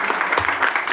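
Audience clapping fills the room in a dense, steady burst of many hands at close range, with no pauses across the short span.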